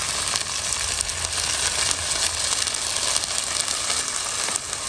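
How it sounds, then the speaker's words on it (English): Masala paste frying in a pan for a traditional Goan jeerem meerem dish, a steady, close broadband sizzle that holds evenly throughout with no talking. "Now add masala, the paste what we made before."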